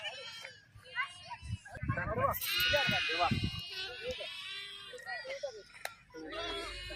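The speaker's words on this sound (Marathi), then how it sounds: "तर इथं अशी मस्त बकरे बघा" Sheep and goats bleat on a farm in rural Maharashtra, with several close, wavering cries rising over someone talking and children's voices nearby.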